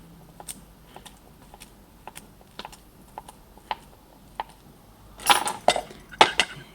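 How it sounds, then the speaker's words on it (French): A knife dices cucumber into small cubes on a cutting board, giving a steady series of light, sharp taps, then a louder cluster of clattering knocks near the end, with no talking. "Et puis, tac, vous recoupez en petits dés."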